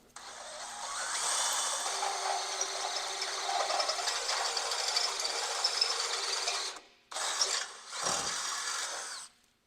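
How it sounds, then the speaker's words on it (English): A power drill whines steadily for several seconds, then stops, briefly restarts and cuts out again with a short grinding burst near the end, drilling through a metal body mount bracket on a third-generation Toyota Tacoma. "We're just going to drill a hole right through this little body mount bracket here."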